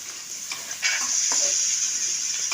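Potato pieces tipped into onions frying with salt and turmeric in a pan set off a sudden loud sizzle that stays hissing and crackling, with a few stirring scrapes.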